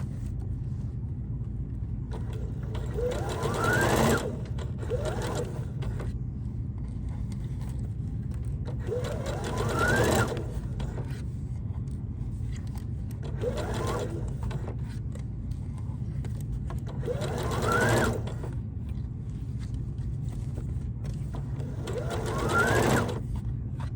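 A sewing machine stitches a fabric bucket hat along a half-inch seam, running in several short whirring bursts with pauses between them over a low steady hum, close by and with no talk.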